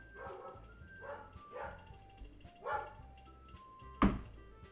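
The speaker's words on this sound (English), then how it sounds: "my dog has just barked at me" A pet dog indoors barks several times in a row, starting moderate and ending with one sharper, louder bark, with nobody talking over it.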